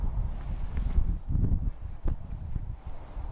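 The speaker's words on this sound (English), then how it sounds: "It's pretty windy." Strong wind gusts blow across open sand dunes on the Oregon coast, a rough low roar buffeting the microphone in uneven surges, with no talk.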